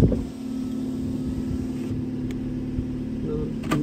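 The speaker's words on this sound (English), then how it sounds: "There you go, engine has started." A 2012 Vauxhall Astra engine idles after a battery change, a steady low hum with a faint tonal whine that holds evenly and is heard up close.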